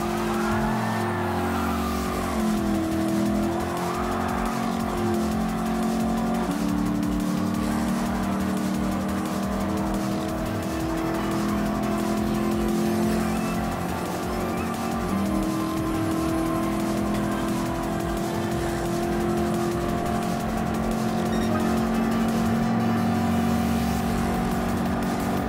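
Ford Mustang Mach 1 classic muscle car in a Gran Turismo Sport custom race, its engine droning steadily and loudly throughout with rising and falling pitch sweeps as it shifts and revs, no talk over it.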